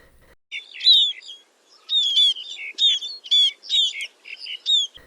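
Bright, high chirps and tweets repeat in short bursts, a small bird singing clearly with brief gaps, no other sounds around it.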